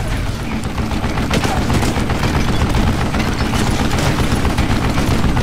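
Sustained, dense gunfire from a mounted gun in the Western shooter Call of Juarez: Gunslinger, loud and continuous throughout without pause, with a busy crackling texture and no clear speech on top.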